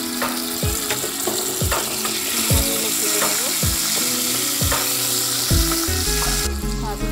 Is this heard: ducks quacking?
no